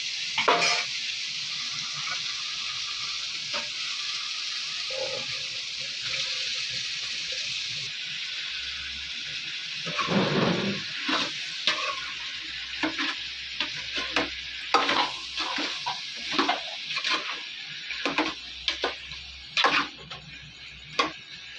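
Brinjal (eggplant) pieces fry in hot oil in a pan, giving a steady sizzle at first. Later a spatula stirs them, adding repeated scraping and clatter bursts over the frying.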